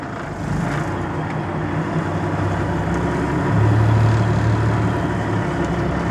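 Truck fitted with an Eaton 9LL transmission pulling away in first gear, a steady low diesel drone close by that swells briefly as load comes on, then settles.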